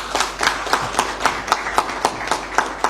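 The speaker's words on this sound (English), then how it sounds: "Can we clap hands for them, please?" Hands clapping at a CAF press event on the Africa Cup of Nations sound as about a dozen crisp, evenly spaced claps in a steady rhythm, fairly close and clear.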